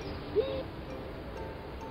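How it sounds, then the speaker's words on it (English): A single owl hoots at night in the Welsh countryside, a short, fairly distant call over a steady background hiss. "There are cries in the dark at night as owls answer the moon"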